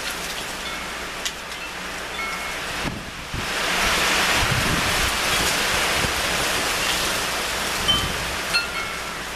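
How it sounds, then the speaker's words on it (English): Strong wind roars in a steady broadband rush, rising and thickening after a brief lull a few seconds in, then holding loud and continuous to the end with no voices. "That's a pretty strong wind."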